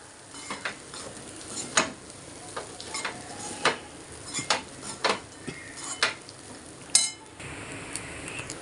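Banana flower puliyogare being mixed in a metal pan, a series of sharp spoon scrapes and clinks against the pan in an uneven rhythm over a faint background sizzle, no talking.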